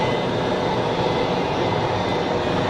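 An easyJet jet taxiing at Geneva Airport, a loud, steady broadband engine roar and whine that holds constant throughout, close by, with no speech.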